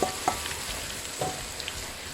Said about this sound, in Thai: ให้น้ำมันร้อนเต็มที่ แล้วเราก็ใส่กุ้งลงไปเลยค่ะ